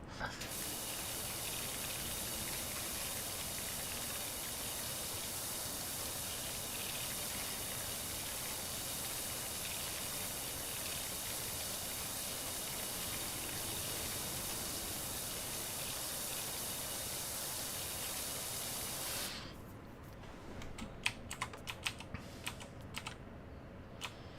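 A pressure washer in the video game Power Wash Simulator sprays in a continuous loud broadband hiss for about twenty seconds, then cuts off, leaving scattered faint clicks.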